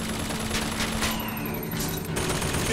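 An automated turret in Bioshock Infinite fires a rapid stream of shots over a constant game background hum, moderately loud and continuous, with no talking.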